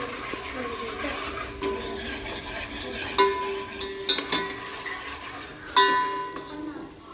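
Onions frying in oil for a Kathiyawadi dish, a soft continuous sizzle with occasional metal scrapes and clinks of a spoon stirring the pan, fairly quiet, with no talking.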